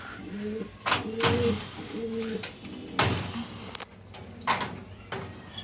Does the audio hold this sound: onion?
no